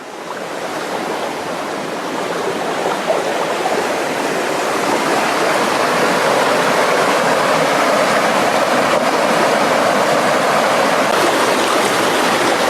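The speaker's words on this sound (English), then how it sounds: "walk down this creek that is a tributary to the Voinica River" A creek that feeds the Voinica River in Bosnia rushes over rocks in a steady, full roar of flowing water, close and continuous, growing slightly louder, with no voices.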